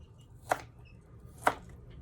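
A blunt kitchen knife chopping on a board, two distinct knocks about a second apart over quiet room noise.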